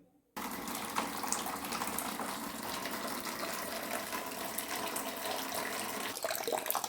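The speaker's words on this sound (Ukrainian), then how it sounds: "Зняла кришечку і будемо зливати воду." Water pouring and gushing steadily from an autoclave as it is drained after canning tomatoes with garlic, a continuous close rush starting abruptly and holding level throughout.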